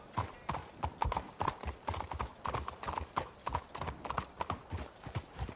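Horse hooves clip-clop steadily along a trail in the Red Dead Redemption 2 game, a continuous run of close, rhythmic hoof strikes over ambient outdoor noise.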